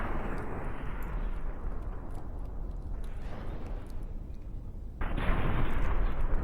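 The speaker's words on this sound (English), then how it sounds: "Opening salvos from both sides. We'll see how much damage the missiles can do." Missile salvos boom across a space battle in a video game: a dense, roaring wash of blasts and bursts with scattered sharp pops, rising into a louder volley toward the end, with no talking.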